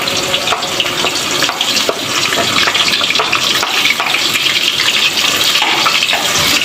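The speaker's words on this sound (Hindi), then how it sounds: "थोड़ा सा ज़ीरा हमारा क्रैकल होगा" Cumin seeds crackle and sizzle in hot ghee for aloo ki katliyan, a dense, steady frying hiss with scattered pops running loud and close throughout, no voices.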